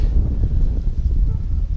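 Wind gusts across a lake during a fishing trip, a steady low rumble buffeting the microphone close up with no voices.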